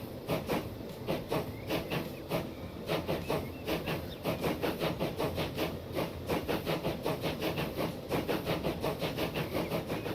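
A heavy 1850s-era passenger train in Transport Fever 2 strains to get moving on level track, giving off a steady, even chuffing pulse with faint clacking underneath, with no voices.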